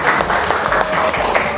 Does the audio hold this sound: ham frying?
no